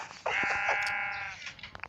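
A sheep in the Minecraft video game gives one long, steady bleat that fills most of the moment, with faint game clicks and footsteps before and after it.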